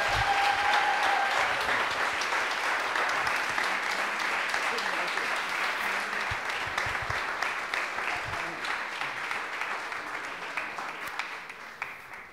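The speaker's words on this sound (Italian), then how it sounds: "Un grande applauso." An audience applauds after a talk at a Tibetan Buddhist teaching event, a dense steady wash of many hands clapping that carries on for several seconds and slowly thins out.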